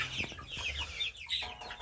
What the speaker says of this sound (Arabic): هانتوما تبارك الله كاين شي وحدين تينقبوا، ودابا هما شبعانين كما كتشوفوا اخوتي